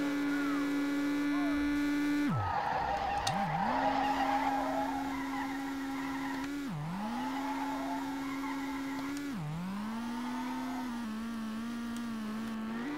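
A Duster in the SLRR racing game holds a steady, droning engine note, with three sharp drops in pitch as it shifts gears, under a continuous electronic hum.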